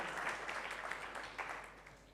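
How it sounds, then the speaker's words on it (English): A conference audience at an industry summit gives a round of applause, a soft, distant wash of clapping that holds steady throughout. "So can we have a round of applause to also welcome none other than Saahil Goel."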